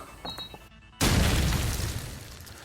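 Grenade in Call of Duty 4 ProMod landing after a brief quiet gap, then a sudden loud, close boom with a long rumbling, debris-filled tail.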